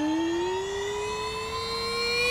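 Whine of a Porsche Mission R electric car accelerating in Forza Horizon, a loud, smooth electric tone that climbs steadily in pitch with layered harmonics, heard alone without any engine rumble.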